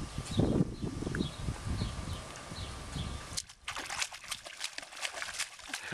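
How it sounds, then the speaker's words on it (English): A child splashes in water close by, with a soft gurgling stretch followed by brighter, choppier splashing. "He doesn't like the splashing, but he keeps going"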